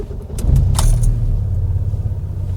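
A petrol car running on a 40% diesel blend cranks and catches, then settles into a steady low rumbling idle close by, with faint jingling early on.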